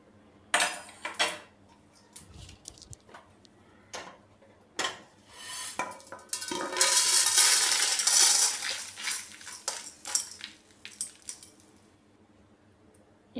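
Dry-roasted dry fruits are scraped from a kadai pan onto a plate in a home kitchen. Scattered metallic clinks and taps are followed by a longer rattling, pouring clatter, then a few final knocks, close by with no talk.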